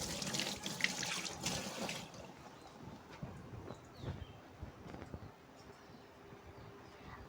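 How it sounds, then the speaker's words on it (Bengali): Running tap water at a kitchen sink while hands are washed after making coconut and nut chutney, a steady close splashing flow that is loudest in the first two seconds, then continues more softly with scattered drips and clatter. "দাঁড়াও আমি হাতটা ধুয়ে নিই ততক্ষণে।"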